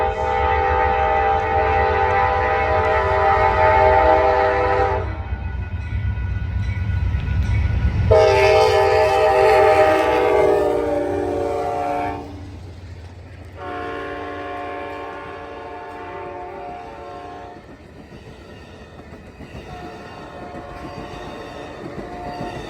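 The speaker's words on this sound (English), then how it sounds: "Amtrak California Zephyr number 5, pulling into Reno at 5 p.m. tonight." Amtrak California Zephyr number 5 passenger train led by heritage unit 164, arriving at Reno, sounds loud sustained horn blasts over the low rumble of the locomotive, with a long pause between blasts as the train rolls in.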